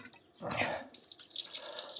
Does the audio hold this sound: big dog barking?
no